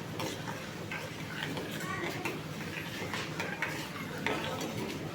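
Besan kadhi chutney for fafda is stirred as it boils in a pot, with a busy close bubbling and repeated light ticking spoon taps against the metal, with no talking.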